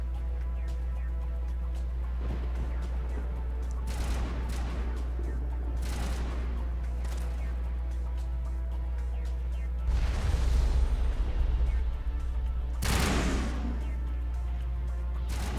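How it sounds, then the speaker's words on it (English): Enemies in Mass Effect fire steadily, with repeated gunshots and bursts over a continuous low rumble. Heavier, louder volleys hit at several points, and there are brief lulls between them. "here you are trying to shoot at me"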